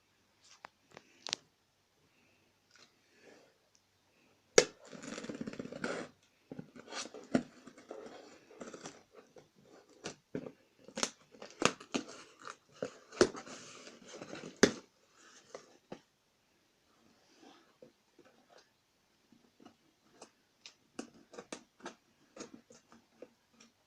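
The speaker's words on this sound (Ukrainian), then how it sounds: "Дарина сьогодні в бабусі, тому відкривати посилку будемо ми з ефірчиком" A parcel from Dzhereliya is cut open with scissors, giving close, sporadic crinkles, snips and rustling bursts separated by quiet gaps.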